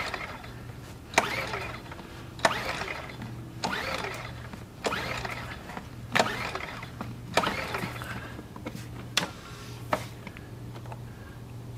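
Repeated pulls on the recoil starter of a Champion model 200961 dual-fuel 2500-watt generator, nine or ten evenly spaced ratcheting whirs, close and clear over a low hum, with no engine catching.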